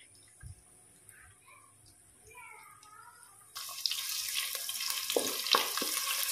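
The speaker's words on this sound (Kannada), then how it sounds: "ಸ್ವಲ್ಪ ಎಣ್ಣೆಯಲ್ಲಿ ತುಪ್ಪದಲ್ಲಿ ಫ್ರೈ ಆಗಲಿ, ಅದರ ಸ್ವಲ್ಪ ಫ್ಲೇವರ್ ಬಿಡಲಿ." Crushed ginger and garlic frying in oil and ghee for a spicy chicken fry, a steady bright sizzle that begins abruptly partway through after quieter kitchen sounds, moderately loud and continuous.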